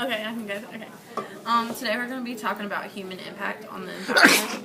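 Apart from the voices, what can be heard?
sneeze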